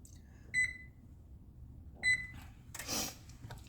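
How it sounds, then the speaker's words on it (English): Two short electronic beeps ring out from a kitchen oven's control panel as it is set to preheat, well separated, followed by a brief soft rustle. "I guess I could preheat my oven as well."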